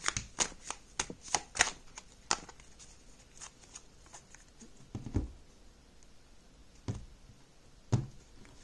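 Tarot cards are handled and pulled from a deck in sharp, crisp flicks and shuffling riffles, clustered quickly at first and then spaced out with soft slides between, close and fairly quiet with no speech.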